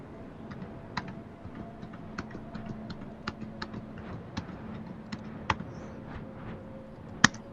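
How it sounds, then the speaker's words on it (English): Rapid irregular clicking of keys on a computer keyboard, steady and fairly close, with a few sharper louder strikes standing out over a low room hum. "I was wondering what all that typing noise was."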